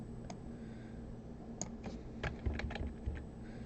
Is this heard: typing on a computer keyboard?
yes